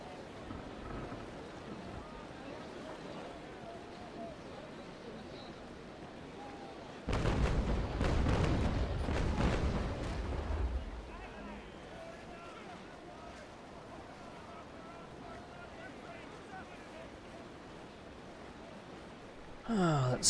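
Ship cannons fire in the naval video game Naval Action, a booming broadside burst lasting a few seconds over a steady bed of wind and sea noise, with another sharp hit at the very end.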